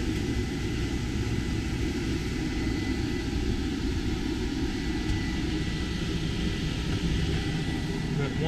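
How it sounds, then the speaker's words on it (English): The air conditioning compressor in the enclosed aft cabin of a 2019 Axopar 28 boat runs as a steady, dense low droning hum with a broad hiss above it, unbroken throughout. "So now the compressor just engaged."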